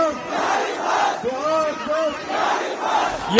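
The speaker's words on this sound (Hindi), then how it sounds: "सिर्फ भीड़ ही नहीं, भीड़ के उत्साह को समझना जरूरी है।" An enthusiastic crowd at a political rally in Mokama roars and cheers in swelling waves, loud and dense, with shouted chant-like calls rising above the mass of voices.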